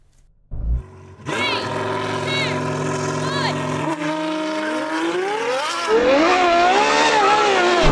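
Nissan Nismo V6 race car in a drag race against a Ferrari V12: a sharp startup burst, then a loud, sustained engine howl that climbs through rising revs and gear changes, with voices partly over it.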